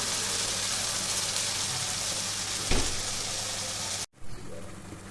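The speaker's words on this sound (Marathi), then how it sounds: "आता हा मी मसाला भाजून घेते तेलामध्ये" Masala paste frying in hot oil for dhaba-style paneer masala gives a steady, close, hissing sizzle with one brief stir-like rustle, then a momentary cut before the sizzling resumes.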